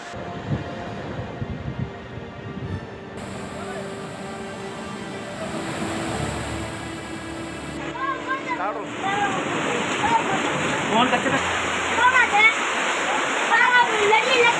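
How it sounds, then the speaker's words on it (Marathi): Floodwater from heavy rain pours over a road bridge at Kothari Mandvi in Kinwat taluka, Nanded, with a continuous roaring rush that swells slightly later on. A person talks over it. "कोठारी मांडवी येथील रस्त्यावरील पुलावरून पाणी वाहतंय"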